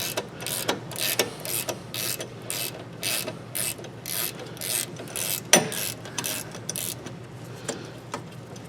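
Ratchet wrench clicking in quick repeated bursts while loosening brake bolts on a 2000 Chevy Silverado 1500 4x4 rear brake job, with near, crisp mechanical ticks and a sharper clank partway through.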